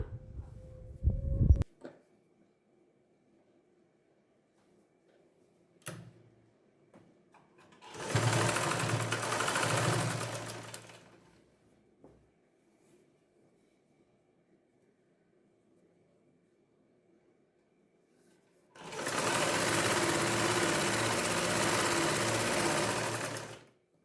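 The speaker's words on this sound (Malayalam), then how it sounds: "ഇനി നമുക്ക് രണ്ട് സൈഡും ജോയിൻ ചെയ്ത് കൊടുക്കാം" A sewing machine stitching the side seams of a baby frock runs in two bursts, a short buzzing run of about three seconds and then a longer steady whir of about five seconds, separated by quiet pauses.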